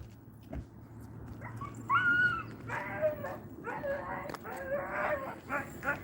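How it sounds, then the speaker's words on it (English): Several dogs near a neighborhood in Henderson, Nevada bark, yip and whimper in a cluster of excited, overlapping calls, fairly close, over steady outdoor background noise. "there's gonna be a whole bunch of doggies in a minute"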